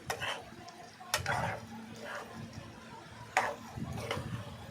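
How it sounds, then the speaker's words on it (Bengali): Chilli chicken being stirred in a wok, with repeated scraping strokes and soft sizzling, a few sharper utensil knocks standing out against a steady kitchen background. "ভালোভাবে নাড়াচাড়া করতে হবে।"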